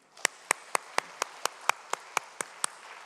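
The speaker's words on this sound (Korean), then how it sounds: "우리 박수해 주시기 바랍니다." Church congregation clapping together in a steady, even rhythm, about four sharp claps a second, crisp and close with no talk over it.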